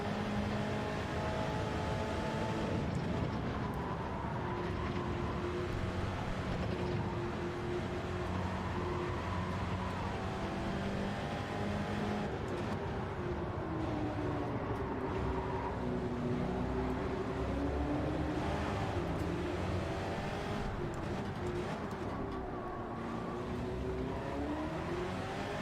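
Race car engine in Gran Turismo 7 at Trial Mountain drones steadily throughout, with pitch rising and falling through gear changes and cornering, continuous and loud with no talk over it.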